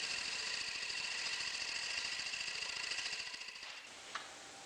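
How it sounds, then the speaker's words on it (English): A wood lathe spins a bowl blank while a bowl gouge trues it to a cylinder, giving a steady, fairly faint whirring hum with a rhythmic flutter that fades out near the end before a single small click. "True the blank to a cylinder using a bowl gouge."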